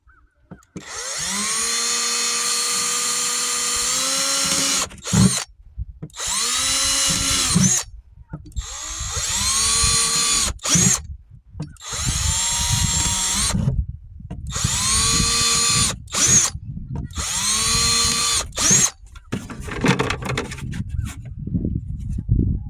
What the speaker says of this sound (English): I don't know how good this drill bit will do on this bucket.